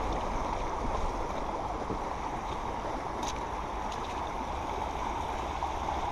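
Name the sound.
creek flowing strongly in wet weather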